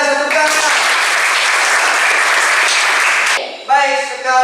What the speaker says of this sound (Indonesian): sangat luar biasa, tepuk tangan